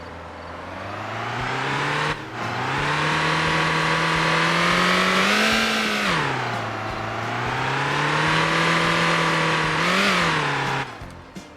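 A video game car's engine revs and drones steadily and loudly for about eleven seconds, its pitch rising and falling with two brief dips, with no talking.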